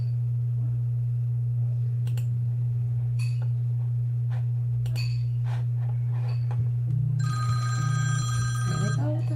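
A telephone rings in a few bright, repeating electronic tones toward the end, over a steady low electrical hum.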